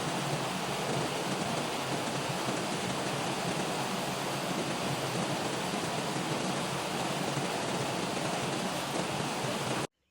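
Broadband, steady rush of a flowing river where clothes are being washed, a continuous wash of water noise that holds evenly and close for about ten seconds, then cuts off, with no talk.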